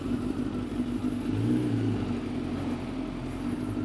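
A motorcycle engine idles while warming up before riding, a low steady rumble with a brief rise in revs midway, heard at moderate distance without speech.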